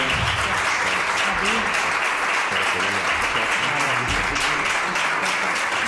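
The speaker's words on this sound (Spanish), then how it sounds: "un aplauso por favor para ella" Sustained audience applause at a flamenco cultural event in Andalusia, dense steady clapping throughout with a few voices faintly audible underneath.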